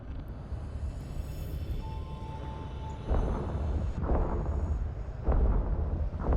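A spaceship's primary weapon firing in EVE Online: heavy rumbling booms land in a rough, steady rhythm over a continuous low roar, loud and dense, with no voices.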